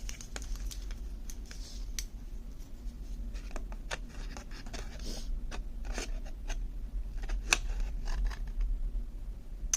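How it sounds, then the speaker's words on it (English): Quiet, irregular snips and crisp paper rustling from scissors cutting paper nearby, over a low steady hum. "I'm going to take my scissors and I'm just going to cut this middle portion out"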